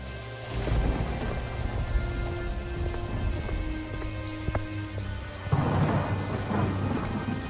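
Thunderstorm with heavy rain, steady dense downpour throughout with rumbling thunder and a sharp crack midway, the rain swelling louder near the end; no voices.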